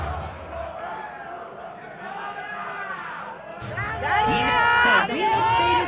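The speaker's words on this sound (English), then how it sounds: "We just got a Dora chant" A large arena crowd at a BlazBlue Chrono Phantasma fighting game tournament final swells into a loud rhythmic chant, rising under excited commentator talk and building to a roaring peak near the end.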